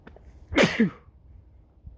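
A single sharp sneeze, close and fairly loud, with a quick intake then a burst, surrounded by near silence.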